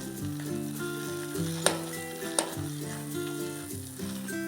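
Khoa milk solids being roasted in a pan over a low flame for modak, a low steady sizzle with stirring scrapes and two sharp utensil clinks, close by, with a faint tonal hum and no talking.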